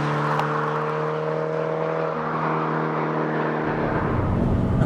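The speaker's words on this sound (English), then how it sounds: "I don't remember ever being in an FRS and being annoyed by the exhaust note like I am in this car." Scion FR-S with an aftermarket exhaust cruising at highway speed in the rain, a steady loud engine drone with harmonic tones from inside the cabin, shifting into rougher low rumble near the end.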